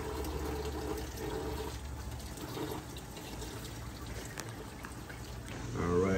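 Coolant drains from the radiator of a 2014 Chrysler Town and Country 3.6 into a catch pan, a faint continuous pouring trickle with muffled shop noise, swelling slightly louder at the end.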